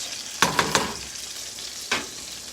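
Broccoli sizzles steadily in a frying pan, with three quick scraping stirs close together early on and one more a little later, no talking.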